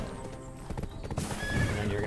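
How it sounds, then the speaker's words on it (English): Horse hooves clip-clopping and a horse neighing in Black Desert Online, with hoofbeats at the start, a whinny rising near the middle and galloping continuing close and loud afterward. "after you mount it, you get on your main horse"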